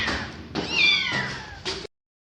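Young Turkish kittens meow in three close, high-pitched cries, the middle one long and rising, with short gaps between them and no talking.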